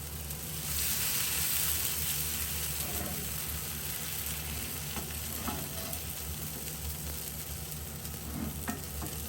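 A red lentil flatbread fries in a pan, giving a steady close sizzle with occasional stirring or scraping clicks over a constant crackling hiss.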